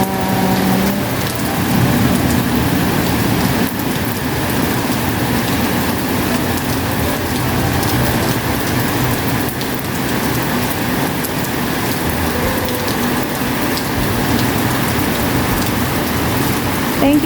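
Heavy rain pours steadily on a rainy day, a dense, even hiss filling the whole stretch at a constant loud level, with a low rumble that may be distant thunder and a faint voice near the start.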